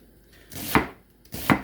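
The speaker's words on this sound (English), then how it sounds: "we choose red onion because we want it to give it some color, and we just basically cut it" A knife chops through red onion on a cutting board in two sharp, close strokes spaced under a second apart, with a quiet pause between them and no talking.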